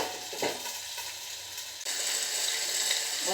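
Rava-coated fish fries on a hot tawa with a steady, close sizzle and crackle that swells louder after a brief drop partway through.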